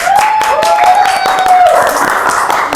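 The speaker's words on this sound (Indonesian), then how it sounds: "Tepuk tangan dong" Hand clapping in a podcast studio about police officers who are pencak silat athletes, a quick, steady patter of claps over a few seconds, with a sustained, slightly wavering tone running through it.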